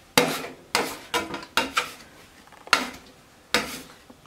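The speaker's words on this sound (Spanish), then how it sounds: "Seguimos amasando." Wet cinnamon roll dough is kneaded and worked on a table with a spatula, giving five or six sharp, separate slaps and thumps at an uneven pace, close and clear, with quiet gaps between.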